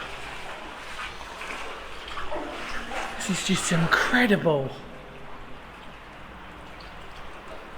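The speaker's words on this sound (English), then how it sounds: "The energy of that water as it's running through." Water rushes and churns loudly through a large Victorian brick culvert for a few seconds, swelling and then dropping back to a softer wash, with someone speaking briefly over it.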